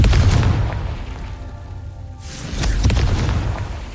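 A Confringo spell in Hogwarts Legacy sets off heavy, rumbling explosive booms, loud and close, with a brief lull before another blast rolls in.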